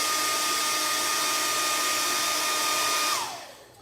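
Quiet airbrush compressor running, a steady airy hiss with a faint whine, close and constant, then winding down and fading at the end.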